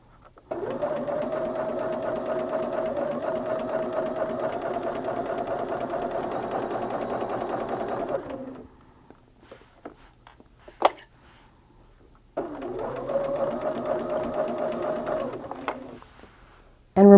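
A sewing machine runs a quilting seam in two bursts, a long steady whirring stretch, then a pause filled with small clicks and handling noises, then a shorter second run of stitching, close and fairly loud.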